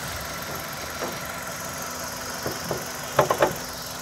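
A 2010 Kia Forte 1.6 with manual gearbox idles with a steady low engine hum, joined near the end by a few sharp close knocks or clicks.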